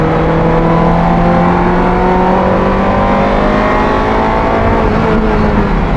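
A Ferrari F355 Challenge race car on an open public road, its engine loud and close as it accelerates steadily, the rising howl building across the whole stretch without a break.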